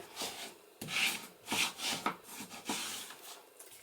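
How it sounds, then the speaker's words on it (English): A bone folder burnishes double-sided tape down onto a handmade book, giving close, dry rubbing strokes in uneven bursts with short pauses between passes. "So I'm going to burnish that down so that it's nice and firmly stuck."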